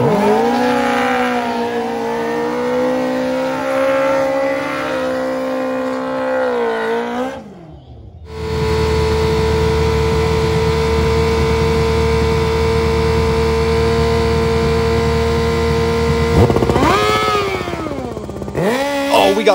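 Drag-racing motorcycles, including a Gixxer 750, at a Keystone Raceway Park bike fest: loud sustained engine roar with revving that cuts briefly, then resumes in a long steady high-rpm run with another sharp rev near the end.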